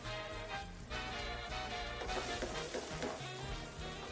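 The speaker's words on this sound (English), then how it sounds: "now we're going to take our sauce that we made and go right into that same pan because we just want to get it very hot" Enchilada sauce hits a very hot pan and sizzles with a soft, continuous crackling hiss, faint and steady throughout.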